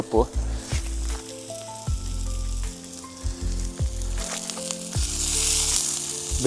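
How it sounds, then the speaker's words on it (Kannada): Chopped curry leaves dropped into hot oil for egg kothu parotta sizzle and crackle steadily up close, with clinks and a low hum underneath, and no talk over it. "ಸ್ವಲ್ಪ ಎಣ್ಣೆ ಹಾಕುವ. ಆನಂತರ ಕಟ್ ಮಾಡಿರುವಂಥ ಸ್ವಲ್ಪ ಬೇಸೊಪ್ಪು ಹಾಕುವ"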